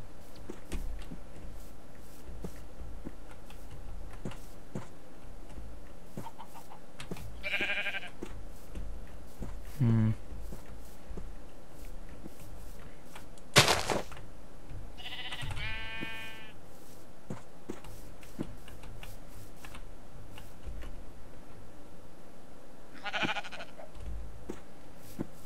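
Minecraft sheep bleat in a few short, wavering calls spread across a quiet stretch of game play, with occasional clicks and a sharp knock between them.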